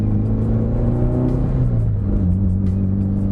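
A Mitsubishi EVO VIII, fitted with a new roll stopper, accelerates hard in first gear. The loud, close engine climbs in pitch, then drops briefly at the shift into second and pulls on steadily.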